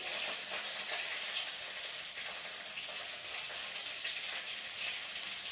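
Mustard seeds, onion and curry leaves frying in hot oil for a dal tempering, giving a dense, even, steady sizzle with crackling spits throughout, close and moderately loud with no voices.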